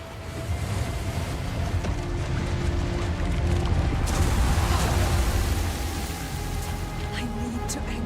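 Loud, unbroken ocean surf rolls and crashes in the video game Hellblade 2, a dense wash of breaking waves with wind, holding steady throughout.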